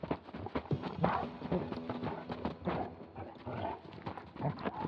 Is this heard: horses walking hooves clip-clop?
yes